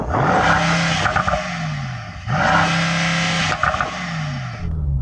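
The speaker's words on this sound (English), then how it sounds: "Oh, I've got a horrific soft limiter here. They normally sound good BMWs, but this one doesn't. Go on, rev it up." BMW M5 engine revved repeatedly against a harsh soft rev limiter, loud and close, with two long bursts that rise, bounce and stutter at the cutoff before dropping away.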